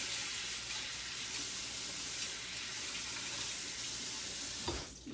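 Kitchen items are rinsed under a running tap, giving a steady, quiet hiss of flowing water that continues without a break, with a brief splash or clatter near the end.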